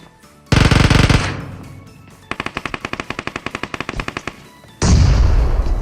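Gunfire in the mobile battle-royale game BGMI (PUBG Mobile): a loud sustained burst, then a long run of rapid, evenly spaced automatic shots, and another loud burst at the end, with no voices.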